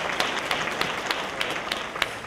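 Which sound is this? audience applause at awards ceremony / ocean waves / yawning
audience applause at awards ceremony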